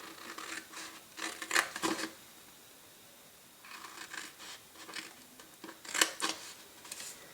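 Paper tabs are snipped with scissors on a scrapbooking box project, two close clusters of crisp cutting strokes separated by a quiet pause, with no one talking.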